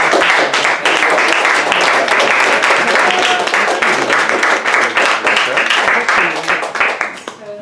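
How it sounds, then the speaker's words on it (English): Audience applause closing a live talk event, a dense round of clapping with scattered cheers and voices that holds steady and then tapers off near the end. "One more round of applause."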